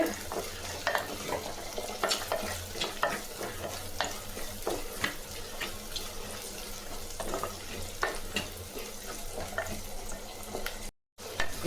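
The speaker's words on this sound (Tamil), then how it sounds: "பெரிய வெங்காயம் ஒன்று போட்டுங்க தீ நல்லா அதிகமாக வச்சு இதை வதக்கிங்க" A large onion sautéing on high flame: a close, continuous sizzle with repeated stirring scrapes and clatters, broken by a brief silent gap near the end.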